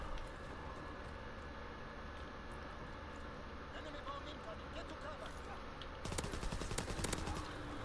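A Call of Duty WW2 gunfight flares up late as rapid automatic weapon fire, a dense burst of close shots lasting about two seconds, over a steady background of game ambience and battle noise.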